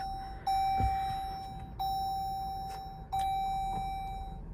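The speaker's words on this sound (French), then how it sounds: "à chaque fois qu'on démarre, ça fait bip" A 2023 Jeep Grand Cherokee chimes at start-up with a series of clear electronic beeps, three evenly spaced tones about a second and a half apart, each ringing on and fading in a quiet cabin.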